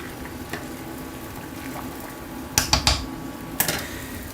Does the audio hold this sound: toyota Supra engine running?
no